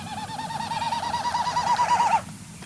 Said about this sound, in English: So here's the winnowing flight display sound.